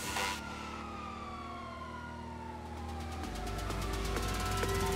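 A police motorcycle siren wails in a video game, a steady electronic tone sweeping slowly alongside a low engine drone that grows louder toward the end, no talk.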